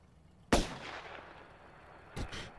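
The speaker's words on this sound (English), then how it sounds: "His head dropped before the gun sound went off." Gunshots in a Breaking Bad TV episode: one sharp, loud bang with a long ringing decay, then a second, shorter bang about a second and a half later over a quiet background.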